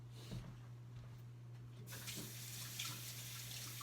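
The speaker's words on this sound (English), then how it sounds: "I'm going to go rinse my hands off" Running tap water splashes steadily into a sink as hands are rinsed, quiet at first, then a fuller, brighter gush; a steady low hum sits underneath.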